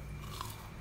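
Crisp bite into a crunchy fried tapioca snack, a single close crunch standing out briefly over a steady background hiss.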